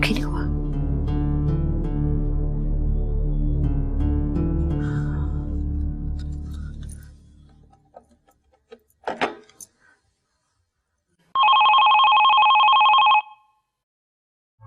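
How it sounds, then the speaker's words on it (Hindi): A telephone bell rings in one clear, close burst of about two seconds and stops unanswered, after background music fades into near silence in an indoor drama scene. "कोई टेलीफोन भी नहीं उठा रहा,"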